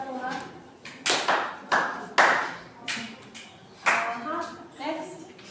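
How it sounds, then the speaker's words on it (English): Several bursts of audience clapping for a student in a classroom, with short irregular rounds of applause spread through the clip and voices talking between and over them. "Yeah, let's clap for her."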